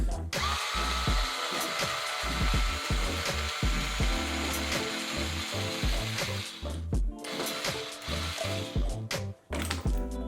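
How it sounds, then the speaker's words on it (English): A 2mm hex driver unscrews the servo horn screw on a Traxxas X-Maxx RC truck, producing close, scraping and grinding turns with rhythmic low thumps, like a small powered driver working against plastic. "Now we need to remove this servo horn, which that will be a 2mm hex."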